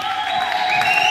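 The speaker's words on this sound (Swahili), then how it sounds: "Pe Yesu makofi na vigeregere vya shangwe." Church congregation claps and ululates in praise of Jesus during a Sunday sermon, a steady wash of applause with sustained high, trilling ululation running through it.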